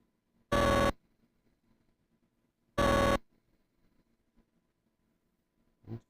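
A device vibrates in two short, loud buzzing bursts of under half a second each, a couple of seconds apart, with near silence between them and a faint rattle at the end.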